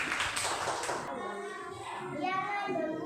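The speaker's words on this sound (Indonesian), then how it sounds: "tepuk tangan buat temanmu luasa" Classroom applause for a student: a short burst of scattered hand clapping at the start, then children's voices and chatter carrying on after it fades.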